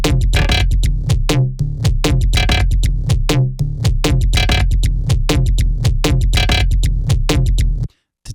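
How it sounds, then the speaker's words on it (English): Glitch sound effects from an Ableton Live 12 ALSM pack fire as rapid, stuttering electronic bursts in a dense loud rhythm, with tightly chopped repeats before a sudden cutoff at the end. "they're just essentially glitch sounds like this"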